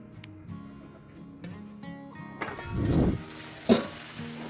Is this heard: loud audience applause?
no